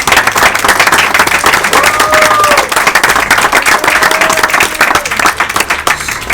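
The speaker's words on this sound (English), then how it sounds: "please let's clap for that." Loud, dense audience applause and clapping fills the room, steady and close throughout, with cheers and a few voices rising briefly in the middle of the crowd noise.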